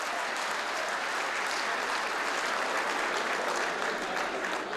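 A crowd at a Urdu mushaira poetry gathering in Qatar claps loudly and continuously for the poet Jauhar Kanpuri, a dense, steady roar of hands filling the whole stretch without letting up.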